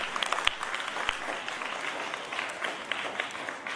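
Audience applause at a school retirement Holy Mass, a steady patter of many hands clapping at moderate distance, with a few sharper individual claps standing out.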